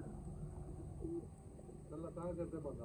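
Low, soft cooing of a pigeon, a few short murmuring calls over a quiet, steady background hum.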